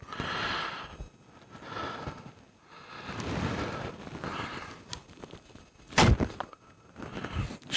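A single sharp thunk of an arrow loosed from a sightless bow in archery practice, landing about two-thirds of the way through amid steady outdoor background noise.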